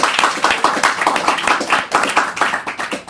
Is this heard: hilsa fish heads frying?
no